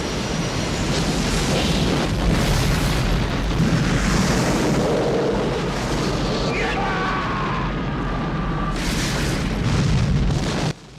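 A loud, rumbling explosion from the airport-runway climax of the film Die Hard 2 (1990) roars continuously for about ten seconds, with voices reacting over it, before it cuts off abruptly.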